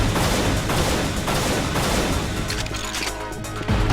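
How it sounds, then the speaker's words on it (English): Crates being smashed and dense weapon fire in the video game Unreal, a continuous loud barrage of crashing impacts with no voices. "Alright, we have more boxes to break."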